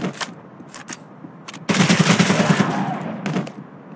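Gunfire in the Android shooter ZOZ: Final Hour; a few scattered shots, then a sustained rapid burst of automatic fire that fades, loud and close with no talk.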